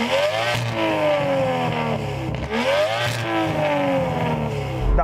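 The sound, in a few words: Aston Martin car engine revving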